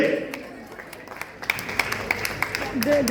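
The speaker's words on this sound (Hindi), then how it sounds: "एक बार ताली बजा दीजिए।" An audience at a hair makeover event breaks into scattered clapping that builds into brisk, rhythmic applause, with a voice talking over it.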